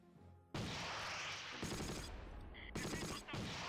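Gunfire in the video game Close Combat: Wacht Am Rhein, loud rapid bursts and shots packed together in a dense, sustained barrage with brief gaps.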